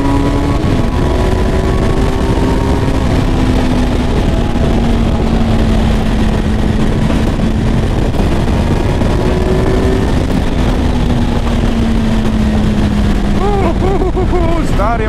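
A Kawasaki four-cylinder motorcycle with an Akrapovič exhaust drones steadily at speed on the road, engine pitch rising and falling through gear changes, loud and continuous under wind rush and a rider talking.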